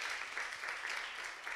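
Audience at a fintech startup competition grand finale in Cape Town giving a round of applause, a soft, distant-sounding steady patter of clapping lasting under two seconds.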